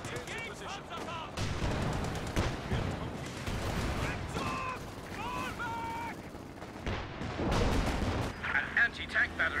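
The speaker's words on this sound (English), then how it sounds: "Taking panzer fire!" Tank cannon fire and gunfire rumble through a Company of Heroes 2 battle, several heavy booms and bursts at irregular intervals, mixed with shouted unit voice lines and radio-style chatter.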